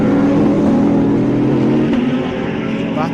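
Race cars, including a Porsche, roar past at a National Extreme Festival race, a loud, steady engine drone with shifting pitch as the pack passes close by.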